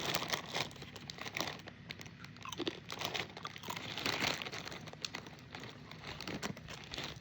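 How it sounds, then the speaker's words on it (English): Caribbean snack crisps crunched close up while being eaten, a steady run of crisp, crackly bites and chewing with some packet crinkling, no talking. "It's like crisps."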